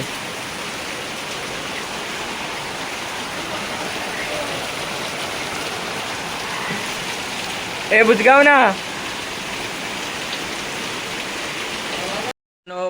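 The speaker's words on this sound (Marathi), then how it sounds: "पाऊस कमी होईल कमी होईल करता करता अखेरला पाऊस वाढला आहे" Heavy rain falls steadily outdoors in a village, a dense, even hiss that runs throughout. A voice calls out briefly near the end.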